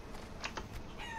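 A video game chicken gives a few short, quiet clucks in quick succession, faint and brief against a low background.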